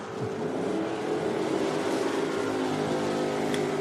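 Drag racing cars at an IHRA event, including a blue Gen 3 machine with a 305 engine, roar steadily off the line at close range, a dense continuous engine drone with no pauses.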